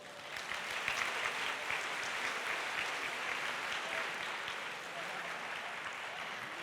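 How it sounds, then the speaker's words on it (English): An event audience at an alumni gathering applauds steadily, a continuous wash of many hands clapping at moderate, fairly distant level throughout, with no talk over it. "please give a big round of applause to them."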